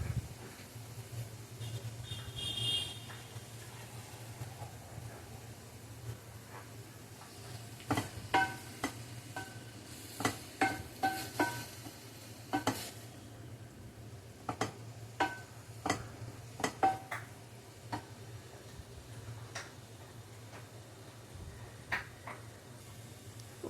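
Salted food being stirred in a frying pan with a faint sizzle underneath, and soft scattered scrapes and taps of the spoon against the pan, quiet and close.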